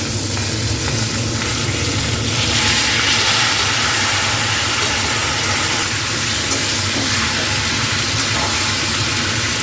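Mixed vegetables for Bengali dudh shukto fry in hot oil with a loud, continuous sizzle and crackle, a steady dense hiss that holds without pause throughout.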